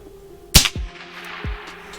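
AirForce Condor SS air rifle fires a pellet: one sharp, loud crack, then two dull low thumps of impact or echo spaced apart, with quiet background otherwise.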